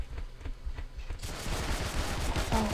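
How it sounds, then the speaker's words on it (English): Bursts of rapid gunfire in the first-person shooter Be Gone crackle in quick succession, quiet at first and then a denser, louder volley with no talk. "I hear gunshots."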